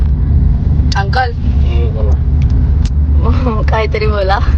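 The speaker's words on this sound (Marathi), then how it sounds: "चाललो आहे मी आता गाडीत बसायला, कारमध्ये जातोय." Steady low rumble of a car engine and road noise inside a moving car, loud and constant throughout, with people talking over it.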